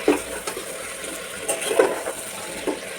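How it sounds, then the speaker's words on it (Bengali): Chicken with potatoes and whole garlic cloves sautés in a pan, giving a soft ongoing sizzle broken by a few louder scraping stirs of a utensil against the pan. "এটা অনেক সুন্দর করে আমি কষিয়ে নিই।"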